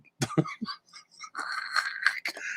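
A few short, harsh coughs up close, followed by strained throaty sounds.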